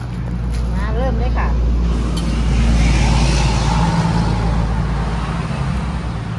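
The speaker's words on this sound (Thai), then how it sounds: "ได้ยินเสียงรถได้จังหน่อยเด้อขับบ้านขางทาง" Cars rolling past a roadside house in rural Thailand, a steady low rumble of passing traffic that swells and fades beneath ongoing voices and kitchen sounds.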